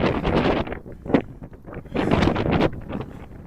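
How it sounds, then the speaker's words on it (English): Strong winter wind gusts past a tall, curved-sided office building on a downtown street in Regina, roaring and buffeting the microphone in loud surges and lulls. "The SAS Power Building here is the worst wind generator because of its curvy sides and being tall."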